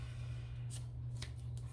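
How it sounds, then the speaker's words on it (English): Scissors snipping a paper ticket for a junk journal, three faint, quick cuts spaced about half a second apart over a steady low hum, with no talk. "I was gonna cut this 35-cent ticket off and glue it on there."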